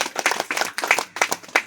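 A church congregation clapping during a prayer-hall service, with quick rhythmic bursts of many hands in a regular beat that is loud and close, with short gaps between the bursts.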